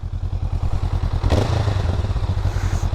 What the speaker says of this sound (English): so you can kind of hear the exhaust